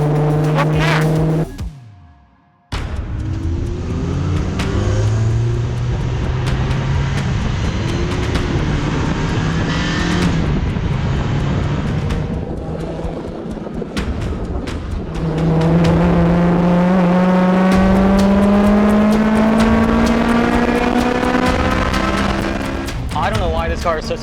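A K-swapped Honda Civic race car is driven hard on a track at a Gridlife event, its engine droning and revving up through rising gear pulls with a brief cut-out early on, loud and close from inside the car.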